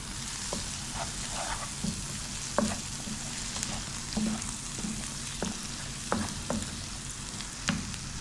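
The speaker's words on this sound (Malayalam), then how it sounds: "മഞ്ഞൾപ്പൊടി നന്നായിട്ട് മിക്സ് ചെയ്തിട്ടുമ്പോൾ" Turmeric powder being stirred into hot oil in a frying pan while cooking hamour fish: a steady sizzle with repeated scraping strokes of a spoon at an irregular, unhurried rhythm, close and moderately quiet.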